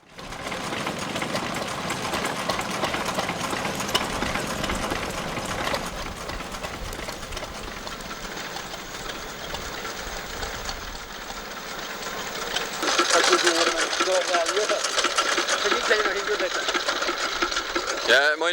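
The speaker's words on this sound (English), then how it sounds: "This is a 1933 4 horsepower Ruston and Hornsby engine, which originally drove a corn roller in Whitechurch" A 1933 4 horsepower Ruston and Hornsby stationary engine, once used to drive a corn roller, runs at a vintage rally with a fast, even mechanical chatter. It grows brighter and louder near the end, with voices in the background.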